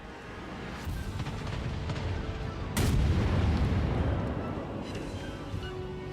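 Main battery guns of the German cruiser Hindenburg firing a salvo in World of Warships, a sudden heavy boom that bursts out of a rumbling battle backdrop and then rolls away as a loud, low roar.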